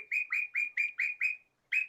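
A pet bird chirps in a quick run of six loud, evenly spaced tweets, pauses briefly, then gives one more, close to the microphone with no talk over it.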